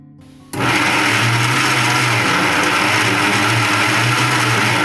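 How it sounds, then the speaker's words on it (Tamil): A kitchen mixer grinder jar kneading flour dough switches on abruptly after a brief quiet moment, then runs with a loud, steady whirring motor drone and a low churning hum for the rest of the clip. "நான் ஒரு 2 செகண்ட்ஸ் தான் மிக்ஸி ஜாரை வந்து ரன் பண்ணேன்"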